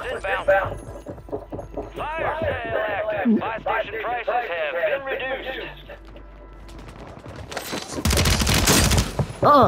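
Video game gunfire erupts as a loud, dense burst of rapid shots near the end, after several seconds of excited talking by a player.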